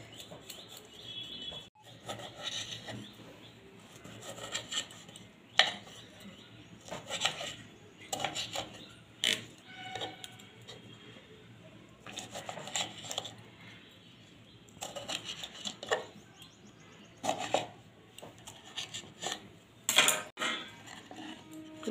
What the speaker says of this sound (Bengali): আমি এদিকে টমেটোগুলো কেটে নেবো